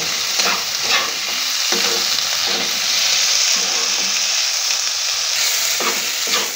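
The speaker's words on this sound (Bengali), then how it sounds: "আমি এইভাবে এটাকে ভালো করে আমি ভেজে নেব" Spicy chutney with curry leaves fries in a pan as it is stirred. A loud, steady sizzle hisses throughout, with scraping strokes of the spoon at a fairly regular pace.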